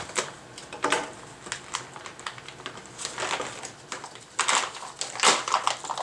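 Knife slicing through the sealed plastic of an MRE pouch, a run of short crackling, scraping bursts with louder tearing near the end, close up with no talk.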